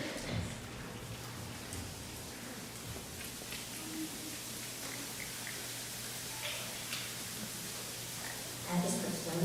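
A church congregation taps together to imitate rain during a Sunday service, a dense, even patter of many small taps filling the room at a steady level.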